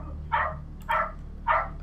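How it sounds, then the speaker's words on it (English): A dog barks three times at an even pace, each bark loud and close, with steady background hum between them and no talking. "And apparently someone's dog's going to bark."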